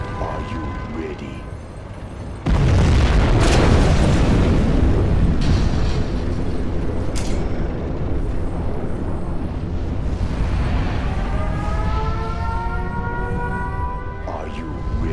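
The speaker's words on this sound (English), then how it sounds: "We have launched our nuclear missile." Nuclear missile detonation in Command & Conquer Generals Zero Hour, a sudden massive boom followed by a long roaring, rumbling tail with whooshing sweeps over ongoing battle noise.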